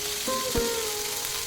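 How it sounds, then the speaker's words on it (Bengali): Ginger paste frying in hot oil gives a steady sizzle with a few sharp spattering pops partway through, close and alone with no voices. "আদা বাটা তেলে দেওয়ার সাথে সাথে খুব তেল ছিটকোয়"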